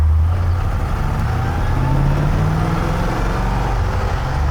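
A 1960 Chevrolet Impala hardtop coupe drives in low gear with a steady, loud engine drone and a slowly rising pitch, with no other sounds.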